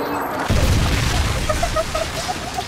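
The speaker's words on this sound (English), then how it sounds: "Friendly Predator missile inbound." A Predator missile explodes in Modern Warfare 3, a loud game boom followed by sustained rumbling rubble and scattered crackles, with some game audio layered over it.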